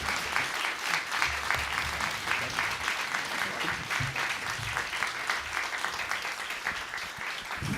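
Warm applause from a conference audience for the presenters at a health insurance meeting, a dense, sustained wash of many hands clapping for nearly eight seconds, fairly even and moderately loud.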